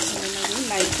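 Tomato and masala sizzling in hot oil and being stirred for a potato curry, with a continuous close frying hiss and faint scraping under a low voice.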